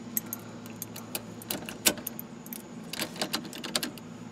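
A bunch of car keys on a 300,000-mile turbo Integra keyring jangles close by, with light metallic clinks and rattles coming in uneven bursts as the keys are sorted through, and nobody speaks.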